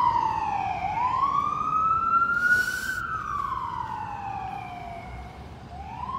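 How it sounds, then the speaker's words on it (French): A wailing emergency siren rising and falling in long sweeps, fairly close and loud, with a brief burst of noise midway and no talking. "quand j'entends cette sirène, je me dis, c'est exactement au bon moment qu'elle arrive, cette sirène"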